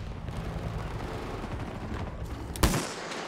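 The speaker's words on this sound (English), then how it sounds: "Who's shooting that?" Gunfire in Battlefield 2042 amid helicopter combat, a low, rumbling spread of distant shots and explosions, then a single sharp, loud blast near the end that fades quickly.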